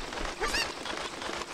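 A short squawking chicken-like cucco cluck rises out of busy game noise in The Legend of Zelda: Ocarina of Time on the N64, brief and moderately loud against the steady background.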